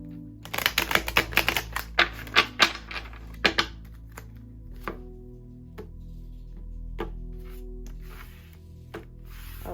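A quick run of papery riffling and tapping as oracle cards are shuffled, then softer scattered shuffling sounds over a low steady hum.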